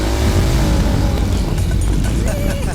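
A motorcycle engine roaring loudly up close as the bike is ridden, a thick continuous drone with rising and falling pitch over a few seconds.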